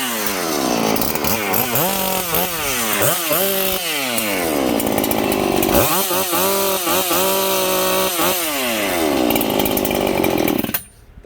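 A rebuilt Husqvarna 395 XP chainsaw, its cylinder not yet broken in, revs hard again and again, its loud buzzing whine swooping up and down between bursts, close and with no talking.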